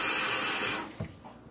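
Water pours from a cup into a pot of rice, a loud rushing hiss for most of a second that stops abruptly, followed by faint splashes.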